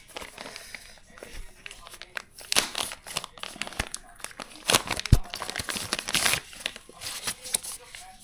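Close, irregular crinkling and tearing of packaging as a DJI wireless microphone box is opened and unpacked, with sharper crackles and rustles bunching up mid-way.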